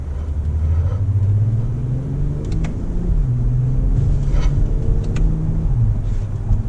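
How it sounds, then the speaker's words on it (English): A 2019 Toyota Avalon's engine rumbles steadily, its pitch rising and dropping as it launches and shifts through gears, heard from inside the car. "let's do like a quick little launch to show you the gears."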